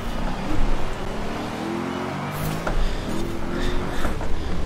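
The small engine of a Peel P50 car buzzes and revs in Forza Horizon 4, its pitch rising and falling through repeated throttle swells, steady and close with no pauses.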